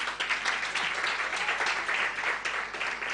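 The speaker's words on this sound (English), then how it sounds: "A round of applause for yourselves." Dense, continuous applause from an audience at the launch event of an African girls' initiative, steady and fairly loud throughout, with no talk over it.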